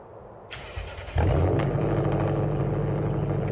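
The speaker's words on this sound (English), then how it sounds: "let me start it up again. Listen to this." A Lexus car engine cranks briefly with a few clicks, then catches and settles into a loud, steady idle rumble nearby.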